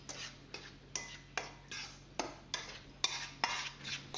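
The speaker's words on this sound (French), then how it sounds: "Et puis on mélange tous les ingrédients secs." Dry pancake ingredients stirred together in a bowl, a steady rhythmic scraping with about ten strokes, each sweep starting with a light tap, close and alone.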